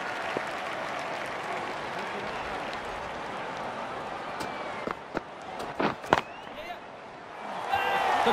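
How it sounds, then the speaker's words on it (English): A video game cricket crowd from Don Bradman Cricket 14 roars and applauds in a continuous wash of noise, with a few sharp knocks and a swell toward the end. "The crowd are on their feet."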